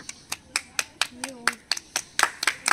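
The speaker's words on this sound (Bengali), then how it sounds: "ওর জন্য একটা জোর হাততালি হয়ে যাক।" A small group claps for a contestant in a cold drinks matching game, a quick uneven run of about a dozen sharp hand claps up close, with a brief voice sounding partway through.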